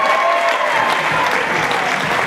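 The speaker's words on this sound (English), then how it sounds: "Give him a round of applause to Joe Allen." Loud, sustained applause from an awards-night audience at a radio awards event, dense clapping filling the whole stretch with faint crowd murmur beneath.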